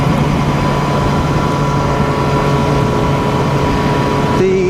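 Yamaha FZ-1n motorcycle with aftermarket exhaust pipe and custom ECU map, engine idling steadily with a loud, continuous low rumble and hum throughout, no talking.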